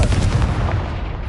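A Confringo spell blast in the game Hogwarts Legacy lands as a short, loud, booming burst with a rumbling low body that quickly trails off.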